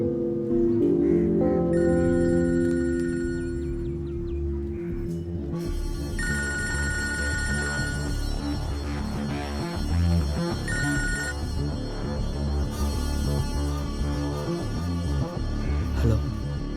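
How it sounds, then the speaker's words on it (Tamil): Telephone ringing insistently in a Tamil comedy film scene, repeated bell-like rings layered over background music, continuing unanswered for a long stretch. "ஃபோன் அடிச்சு எடுக்க மாட்டேன்"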